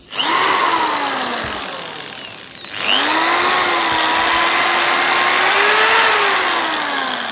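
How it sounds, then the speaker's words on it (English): An iBell ED06-91 400W electric drill whines loudly at close range. Its motor winds down to a brief near-stop partway through, then spins back up to a steady high-pitched drone. "From there you can adjust the speed of drill, like I am adjusting it."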